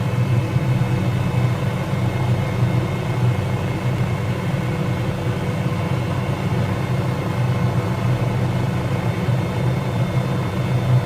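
Simulated MD500E helicopter comes in to land on a helipad in Microsoft Flight Simulator, a constant loud turbine whine and rotor drone holding steady throughout with no speech.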